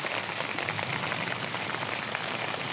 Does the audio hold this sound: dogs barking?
no